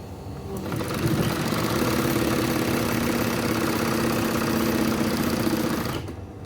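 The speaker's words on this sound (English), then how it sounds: "So you come down to your lining and you sew it down." An electric sewing machine stitches down the lining of a purse, starting after a brief quiet moment, then humming and rattling steadily at close range for several seconds before stopping abruptly.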